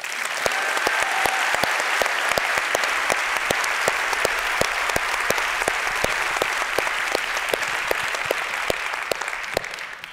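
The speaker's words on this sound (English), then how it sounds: "Please join me in giving them a round of applause." An audience at the Skoll World Forum 2019 opening plenary applauds scholars in the room: a sustained, even wash of clapping from a large crowd, with sharper individual claps poking through, lasting ten seconds and tapering slightly at the end.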